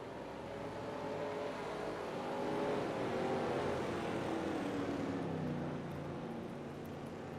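Pack of race cars at Daytona in NASCAR Racing 2003, engines droning steadily with rising and falling pitch sweeps as cars pass, a continuous moderately loud roar.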